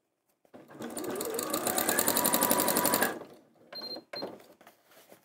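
A sewing machine runs steadily for about two and a half seconds, stitching fabric with a fast, even mechanical rhythm. It then stops, and a few quieter clicks and handling sounds follow.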